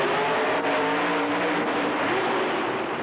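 Ford-powered monster truck engine idling and rumbling steadily at the starting line at a USHRA mud and monster truck points final in Chicago, a loud continuous roar with strong low harmonics, no talk over it.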